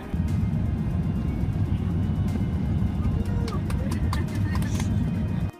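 Airbus A380 taxiing on a runway in a sandstorm, a steady loud roar of engines and wind, continuous and near, with faint clicks on top.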